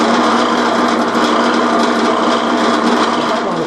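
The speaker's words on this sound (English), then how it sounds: "I'm just going to go ahead and drill these." A drill press bores into a wooden post held in a bench vise, a loud continuous whirring, grinding cut that holds steady throughout with no pauses or talk.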